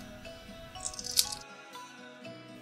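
Boiled quail eggs being peeled by hand, giving faint, close crackles and small crunches of fragile shell, with one sharper crack midway and quiet gaps between.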